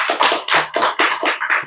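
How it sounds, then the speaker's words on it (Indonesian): A small audience at a casual talk show claps in short irregular bursts, a handful of close hand claps rising and falling over a couple of seconds, with no voices over them. "Kasih tepuk tangan kawan."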